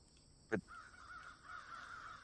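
A single sharp crow caw from a recording played aloud stands out, followed by a faint, steady tonal background; quiet overall, like a recording played in a room.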